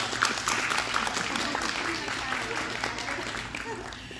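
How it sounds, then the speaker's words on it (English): Scattered applause from a small group after a class, soft and somewhat distant, continuing steadily for a few seconds. "Let's give Alyssia a round of applause."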